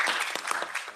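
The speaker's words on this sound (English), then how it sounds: "So I want to give a big applause to Elena." An audience at a nursing event livestreamed from the EU parliament claps in a brief, dense burst of applause, fairly close and steady before cutting off.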